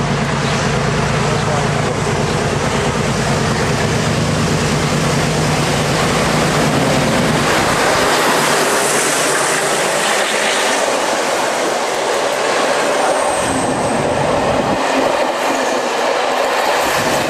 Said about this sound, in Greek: Ναι, έχει πάρει φορά το τρένο.